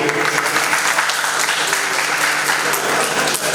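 Sustained, dense applause from an audience at a ceremony or public gathering, steady and loud throughout with no pauses, the clapping filling the whole stretch.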